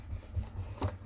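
A glued cardboard cracker box being pressed down by hand makes faint, soft rubbing and scuffing sounds in two or three quiet pulses close by.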